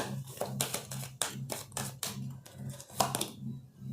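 Tarot cards being drawn and laid out on a surface, a quick run of light flicks, taps and shuffling snaps heard close up, with a soft low hum underneath.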